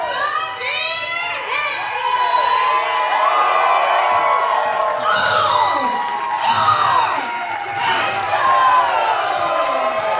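A live pro wrestling crowd at a tag team title match cheers and shouts loudly and continuously, with whoops, whistles and high-pitched yells rising and falling throughout.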